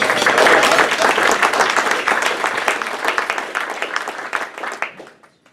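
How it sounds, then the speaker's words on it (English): Audience at a Gate City Rotary club meeting breaking into applause: a dense burst of many hands clapping, loudest at the start, thinning gradually into scattered claps before fading out near the end. "Let's give everybody a clap."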